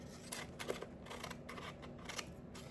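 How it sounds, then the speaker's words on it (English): Scissors trimming a strip off the edge of a broken canvas, a handful of quiet, close snips and rustles against faint background hiss. "Trim a little bit off this side."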